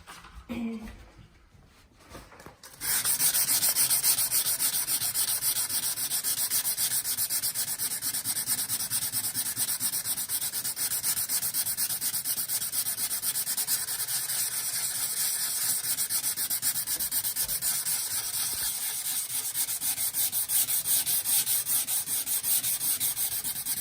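Steady, continuous rasping of fine-grit sandpaper rubbed over wooden stairs during repair, a dense close-up hiss sustained for about twenty seconds after a brief quiet start.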